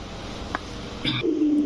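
Soft coos from Pakistani and Indian breed pigeons close by at a pigeon farm, a brief low warble followed by a sustained throaty coo, over a faint background hum.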